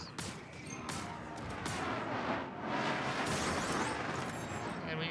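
Esperia Glaive ship weapons firing in Star Citizen, a dense, continuous barrage of loud blasts and crackling impacts with no clear gaps, sustained across the whole stretch.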